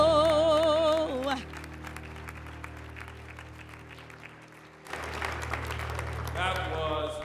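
A singer's vibrato note from Lift Every Voice and Sing, sung at a Tampa Black History celebration, ends, and after a quiet pause the audience breaks into sustained applause, a broad wash of clapping that carries on steadily.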